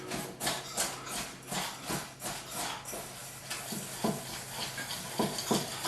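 A spoon stirring a topping of shredded Parmesan and melted butter in a bowl, a steady series of scraping, clacking strokes repeating every half second or so, close and fairly quiet.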